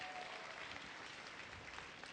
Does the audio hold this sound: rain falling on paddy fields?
no